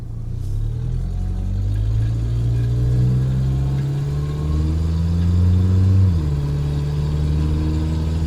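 A Ford Ranger engine with a suspected fault hums steadily while driving, its pitch climbing through the gear, then dipping briefly at a shift before rising again, close and loud with no talking.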